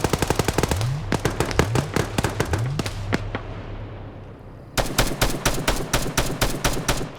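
Rapid automatic gunfire in a horror video game, sharp bursts of shots with sliding mechanical reload sounds between them, a brief lull, then another loud fast volley.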